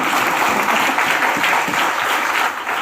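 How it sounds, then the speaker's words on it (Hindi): Steady, dense audience clapping at a Hindi Day speech event, loud and continuous throughout, easing slightly at the end. "मुझे लगता है कब ताली बजाना है ये आप समझ नहीं पाते"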